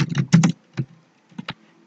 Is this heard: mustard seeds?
no